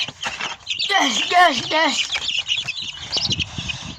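Chickens and young chicks in a backyard coop, clucking calls and chirps in close succession near the listener, while a man calls to the birds.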